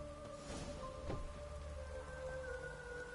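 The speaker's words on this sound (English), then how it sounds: "Looks like rain." Steady rain patters down in The Witcher 3 video game, a dense even hiss of falling drops with faint low rumbles and soft background music tones, no voices.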